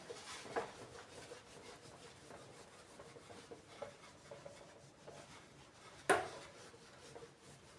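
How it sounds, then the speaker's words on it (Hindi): A board being rubbed to erase its top, a soft continuous scraping and rubbing texture, faint and close, with one sharp knock near the end. "मैं ऊपर रब कर दे रहा हूं।"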